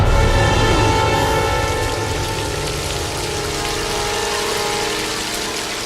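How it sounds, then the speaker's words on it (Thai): Water gushes out of a rock like a river, a loud, dense rushing wash that starts strongest and eases slightly while staying continuous throughout, with no voices. "น้ำได้ไหลออกจากหินเหมือนดังแม่น้ำ"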